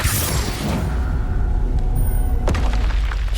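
A Confringo blasting spell explosion in Hogwarts Legacy, a loud booming burst at the start that rumbles away, followed by a second sharp crack and a fainter crash near the end, with no talking.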